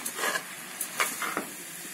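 Vegetables for veg noodles sizzling on a high flame while being stirred, a constant close frying hiss broken by a few quick scraping stirs.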